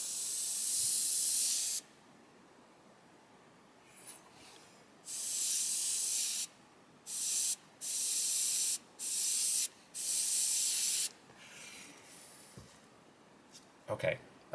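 Infinity CR+ airbrush spraying in repeated bursts of steady hiss, several lasting about a second or more, separated by quiet gaps, loud and close with no talking.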